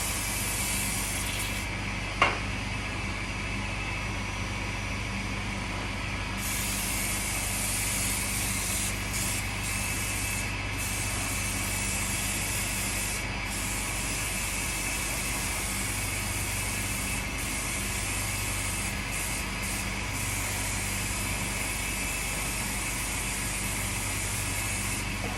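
An airbrush sprays paint onto an RC car body in a steady, continuous hiss that holds at an even level for the whole stretch, with one brief click near the start and no talking.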